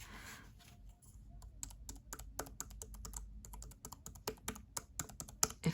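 Key presses on a JellyComb Bluetooth keyboard with matte-finish keys, a run of light, crisp clicks, sparse at first and then quicker and more irregular, close up and quiet with no voice.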